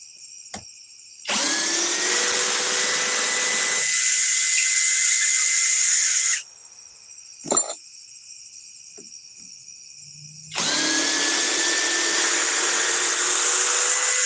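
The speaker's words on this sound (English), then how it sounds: "Try to remove them all with the drill." A power drill backs out screws in two long whirring bursts of several seconds each, close and loud, with a short tap and quiet pauses between them.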